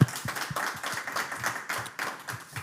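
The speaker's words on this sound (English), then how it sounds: "So give a round of applause." A small audience at a FHIR developer conference claps after a presentation, with uneven, individual hand claps in a brief, moderately close burst.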